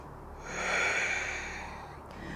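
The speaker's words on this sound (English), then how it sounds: "Take a breath." A single deep breath drawn through the nose during a yoga side plank, a close breathy inhale swelling and easing over about two seconds, alone.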